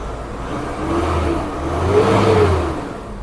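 The stock engine of a 2019 Nissan Navara 2.5 EL Black Edition pickup revs up loudly nearby, rising to a peak and easing back into a steady rumble.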